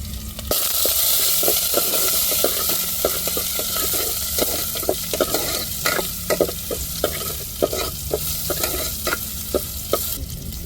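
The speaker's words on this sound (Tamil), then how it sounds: "இந்த வெங்காயமும் போட்டாச்சு நம்ம வத்தல் கருவேப்பிலை சேர்த்துக்கிடுவோம் பூண்டு சேர்த்துக்கிடுவோம்" Onion, garlic and curry leaves fry in a pan with oil for a fish puttu dish, making a steady close sizzle broken by regular scraping strokes of a stirring spoon.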